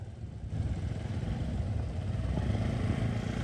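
A motorbike ridden by friends crosses over, its mid-pitched engine droning steadily and fairly close with a rattling, clattery edge throughout.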